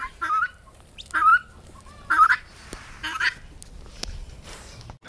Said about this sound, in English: Just the guineas hanging out down here with the goats.